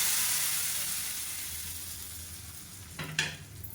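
Mustard seeds, cumin and curry leaves tempered in hot ghee for sambar: a loud, close hissing sizzle that slowly fades, then a sudden fresh burst of crackling and spattering near the end.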